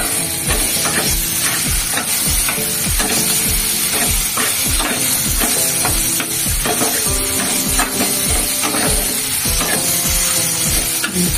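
Chopped tomatoes fry in hot oil in a pan while fish curry with kohlrabi and new potatoes is being cooked, giving a loud, continuous sizzle broken by steady scraping and clacking strokes of a stirring spoon.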